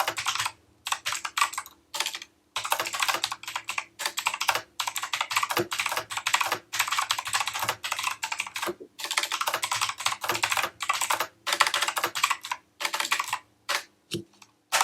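Someone types steadily on a computer keyboard, a close, crisp run of rapid key clicks in bursts separated by brief pauses, with no talking.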